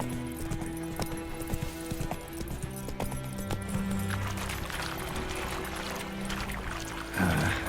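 Roach, the horse in The Witcher 3, gallops with a steady, fast clip-clop of hooves close by, running continuously beneath sustained background game music.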